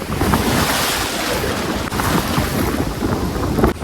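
Big sea waves break and wash in steadily at Mandarmani beach in the afternoon, a continuous loud roar of surf with heavy wind buffeting the microphone and no voices.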